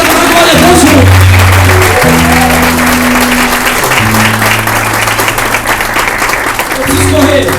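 A church congregation applauds loudly and continuously during a worship service, the dense clapping layered over sustained keyboard chords and a shifting bass line.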